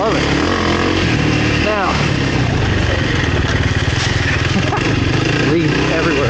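A Kawasaki KLX300R dirt bike engine running steadily while riding on a leaf-strewn trail, a close, continuous mid-pitched buzzing drone with small shifts in revs, and a rider talking over it.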